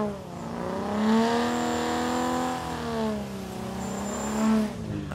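At Calder drag strip, a big Ford Fairlane and a six-cylinder Falcon launch off the line, engines revving hard in rising and falling sweeps, loud and close with a brief high whine.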